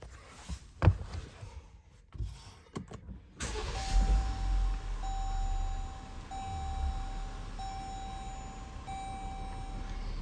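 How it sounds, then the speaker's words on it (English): A few clicks and thumps, then the engine of a 2021 Jeep Grand Cherokee Altitude mid-size SUV cranks and catches with the hood open, settling into a steady idle with a faint high whine above it. "pop the hood, start it up here"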